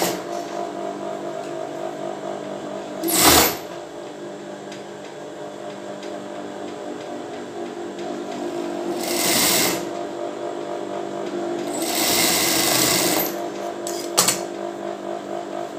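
A sewing machine stitches a bra seam, running a steady mechanical hum with several louder bursts of fast stitching spaced through the stretch.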